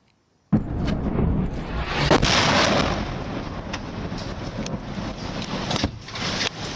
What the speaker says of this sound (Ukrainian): пролунав перший вибух